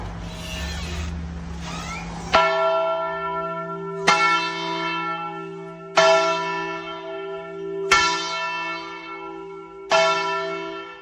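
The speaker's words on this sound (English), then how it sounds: "Do you know what bell that is?" A large bell tolls five times at an even, slow pace, each strike ringing out and decaying before the next, with a soft low hum beneath.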